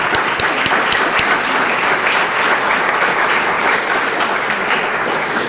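Loud, dense applause from an award ceremony audience at a May Day awards evening, many hands clapping continuously and evenly close by, with a few sharper individual claps standing out at the start.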